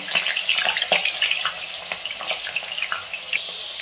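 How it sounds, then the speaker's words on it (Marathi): Whole potatoes dropped into hot oil in a kadhai for dum aloo, a close, steady bubbling sizzle with crackling spatter throughout, no voices. "त्यासाठी तेल टाकून घेतलं होतं कढईमध्ये। याच्यामध्ये मी पूर्ण बटाटे टाकून घेणार आहे।"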